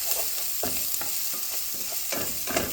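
Chopped onion sautéing in hot oil sizzles steadily while a utensil stirs and scrapes the pan in repeated strokes every half second or so, close and fairly loud, with no talking.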